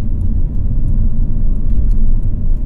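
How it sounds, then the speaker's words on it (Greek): An Alfa Romeo Selespeed engine rumbles and revs as a gear is downshifted manually with rev matching, a loud, low, steady drone heard from close by, with no voices. "Τώρα κατέβασα εγώ ταχύτητα χειροκίνητα"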